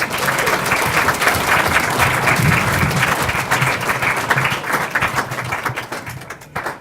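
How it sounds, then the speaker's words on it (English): Wedding guests applaud during the speeches, with dense, steady clapping from a crowd that fades slightly near the end. "Can you give them a round of applause,"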